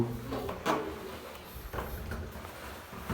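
A hotel room door being opened and closed, a few soft knocks and latch clicks spread over a few seconds against quiet room noise.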